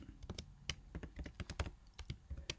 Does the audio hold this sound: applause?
no